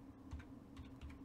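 Soft keystrokes on a computer keyboard, three or four quick taps at an even pace over a low room hum.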